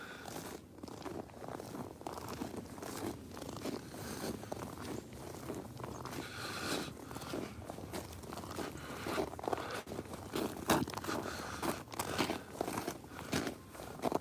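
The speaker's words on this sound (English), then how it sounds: "You can hear the crunching as I walk because there's ice there." Footsteps crunch on icy ground outdoors in the cold during a walk with a dog, a steady series of crisp crunches that stays near and fairly quiet the whole time.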